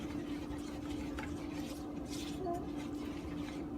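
Dégué, a millet and yogurt dessert, is stirred slowly in a bowl, giving a faint, steady wet swishing with light scrapes over a constant background hum.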